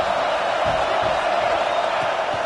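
Stadium crowd at a late-game football moment, a loud, steady roar of cheering voices that fills the space without pause.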